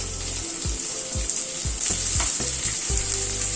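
Sliced onions fry in a pan with sweet potato in oil over a medium gas flame, a constant bright sizzle with repeated scraping and stirring strokes, close and alone.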